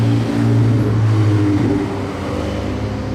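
Ferrari F8 with a non-original aftermarket exhaust accelerating on a Monaco street at night, a loud, sustained engine roar that swells and eases slightly, close by with no talk.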